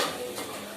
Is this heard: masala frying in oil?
yes